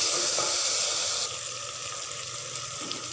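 Water pours into cooking masala of spices, red chilli, turmeric and cumin for a spinach and chana dal dish, a close hissing splash that drops to a quieter trickle partway through.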